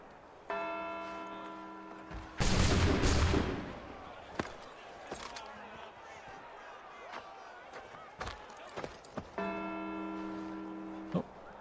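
Gunfire erupts in Assassin's Creed 3, a loud dense volley around the middle with a few sharp single shots scattered afterward, between stretches of ringing bell-like tones.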